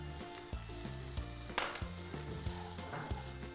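Diced paneer sizzles in a tomato masala, a steady frying hiss running under melodic background music with a few brief louder crackles.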